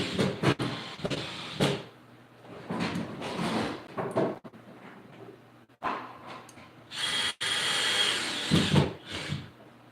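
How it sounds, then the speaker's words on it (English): A power drill runs in intermittent bursts indoors, loud whining spurts separated by short pauses, with clunks and handling noises between them and a final long harsh burst. "Tell her I'm drilling."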